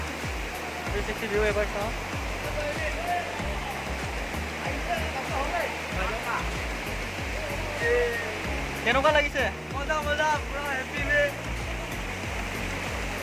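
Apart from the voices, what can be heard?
waterfall in Dhemaji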